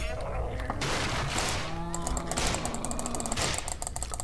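Gunfire in the video game Nightmare House 2, loud rapid bursts of shots with clanking mechanical bangs filling the whole stretch, a person's voice faintly mixed in.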